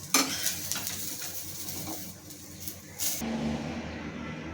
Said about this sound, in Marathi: ते ओला नारळ घेतलेला आहे मी आता हे सर्व आपल्याला भाजून घ्यायचे वाटण्यासाठी